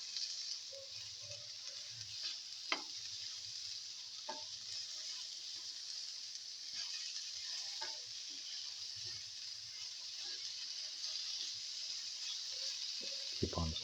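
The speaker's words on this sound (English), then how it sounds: "Keep on sauteing." Okra and spices sauté in a pan, a low, steady sizzle with scattered clicks and scrapes of stirring, quiet and close, with no talking.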